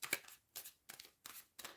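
Tarot cards are shuffled in five quick, crisp riffling bursts, evenly spaced and close by, with short silences between them.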